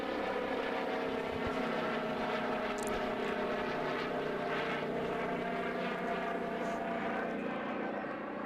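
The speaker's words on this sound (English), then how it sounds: "that's 6 off the first over by Nicole Beard as a plane comes over. Might be able to hear it through the comms there." A plane passing over a cricket ground during a women's domestic cricket final gives a steady, broad engine drone that holds throughout, fairly loud and continuous, with no talk.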